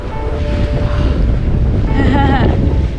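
A sailboat moving fast on a beam reach, with strong wind buffeting the microphone over a steady rush of water along the hull and a brief creaking whine near the end.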